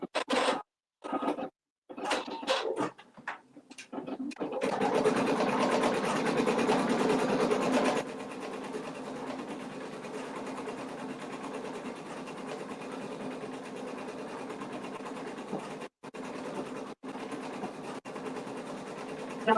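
A 4x4 embroidery machine sews a stipple stitch into fabric held in a hoop, starting with a few short stop-start bursts before settling into a steady, fast mechanical whir that pauses briefly near the end.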